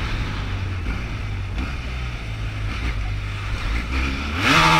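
A BMW F800 motorcycle rides through traffic, its engine droning steadily with wind rush at close range, then revving louder near the end.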